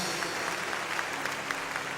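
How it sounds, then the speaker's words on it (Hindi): Congregation at a Sunday prayer meeting claps loudly and steadily in a roughly regular rhythm, a continuous bed of hands with faint sustained tones beneath. "जोर से तालियों के साथ प्रभु यीशु मसीह के नाम को महिमा दें"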